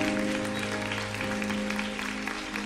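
Audience applause at a live Christian salsa concert in Colombia: a dense, steady wash of clapping that fills the whole stretch, with a sustained musical tone humming underneath.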